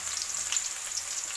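Onions fry in hot deep-frying oil for a chicken fry, a brief, close, steady hissing sizzle with no talking.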